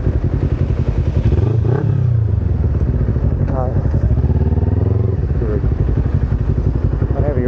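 A Kawasaki Ninja 250R is ridden through traffic, its engine a close, steady drone with brief rises in revs and wind rush, while a rider talks over it throughout.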